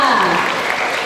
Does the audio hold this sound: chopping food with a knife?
no